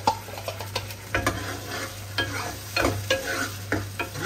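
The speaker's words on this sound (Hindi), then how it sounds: "अभी मैं तड़का लगा रही हूँ वो जो आमटी है उसको।" Curry leaves and cumin tempering in hot oil for Maharashtrian aamti dal, with crackling sizzle and stirring scrapes in bursts, close and loud, over a steady stove hum.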